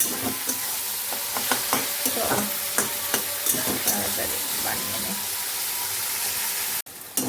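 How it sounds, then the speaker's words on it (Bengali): Dried fish chutney frying and being stirred in a home kitchen pan, with a steady sizzle and repeated scraping strokes of the spoon throughout, ending in a brief break before the stir resumes. "এখন ভালো করে এটাকে কষতে থাকি অনেকটা সময় নিয়ে করতে হবে"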